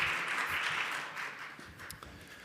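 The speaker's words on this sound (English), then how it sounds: "Let's give a round of applause for Sustainable Package Service for Grocery Stores." Applause from an audience at a waste-challenge project presentation, a fairly faint, steady wash of many hands clapping that gradually thins out.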